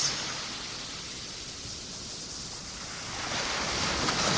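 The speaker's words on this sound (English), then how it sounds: "Stepping forward in the waves" Ocean waves washing on a shore as a broad, steady hiss of surf that swells louder toward the end, with no voices.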